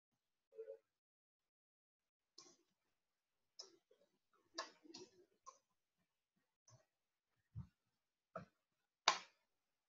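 Typing on a computer keyboard while composing a tweet: sparse, quiet key clicks spaced irregularly across the stretch, with a couple of sharper taps near the end and no talking.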